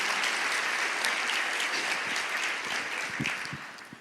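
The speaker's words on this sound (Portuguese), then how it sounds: "Você pode aplaudir o Senhor por isso" A church congregation applauds together, steady moderate clapping that thins toward the end with a few scattered claps.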